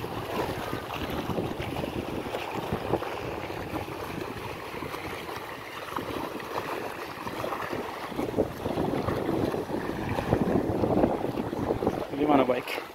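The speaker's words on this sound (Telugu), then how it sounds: "వాటర్ ఫ్లో భలే ఉంది మెయిన్గా" Water flowing strongly at the Dindi project reservoir, a continuous broadband rush mixed with wind buffeting the microphone, steady for the whole stretch and slightly louder toward the end.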